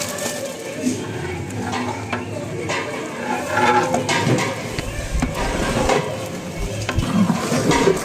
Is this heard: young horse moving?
no